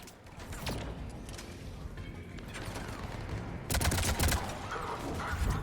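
Gunfire from the Mass Effect 3 video game, a steady stream of rapid shots and mechanical clatter building to a denser, louder burst of overlapping blasts near the end, with no talking.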